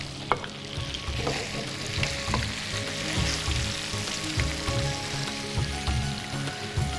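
Rolls deep-frying in oil, a loud, close, continuous bubbling sizzle with a crackly, rain-like texture and faint low hum beneath, steady throughout with no talk.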